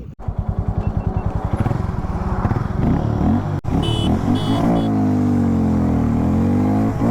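A Harley-Davidson X440 and a Yamaha R15M roar loudly up close in a drag race, revving hard with rapid pulsing that rises in pitch as they accelerate, then a sustained high whine.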